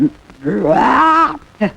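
A man practising mimicry imitates a cow's moo with one long, drawn-out lowing call, close to the listener, with brief vocal sounds just before and after.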